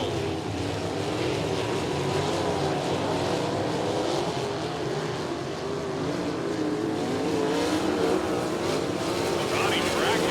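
Sprint cars race a heat at Lincoln Park Speedway, a continuous roar of engines at a distance with a race announcer talking over it throughout.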